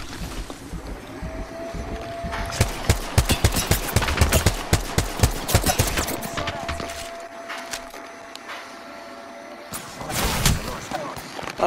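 Rapid gunfire in Apex Legends, dense bursts of sharp shots for several seconds followed by a pause and a final loud volley, close and loud over a windy background.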